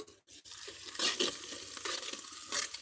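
Onions sizzle and hiss steadily in a hot pan, with occasional scraping stirs, close up and without any voices.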